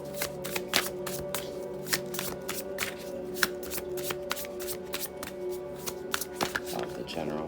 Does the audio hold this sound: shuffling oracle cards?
yes